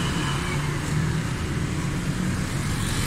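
A Suzuki Cultus with a three-cylinder engine runs steadily, a continuous low rumbling drone heard close by with no variation in pace.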